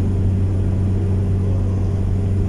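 Steady low engine rumble and broadband road and wind roar from inside a car moving at about 90 km/h in strong wind, constant and loud throughout with no talking.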